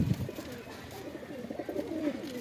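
Cooing of a female Rampuri pigeon with a waxy beak and dark eyes, a low murmuring coo repeating steadily through the clip at close range, with no speech over it.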